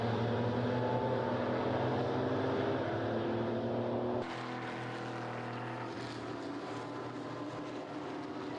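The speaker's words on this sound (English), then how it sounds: "the sound of these old cars is like pure rock and roll" Old Porsche race cars, including 964-generation Carrera Cup cars, roaring around Mugello circuit during a Porsche Sports Cup Suisse race, a dense sustained engine drone that steps down slightly partway through, with no talk.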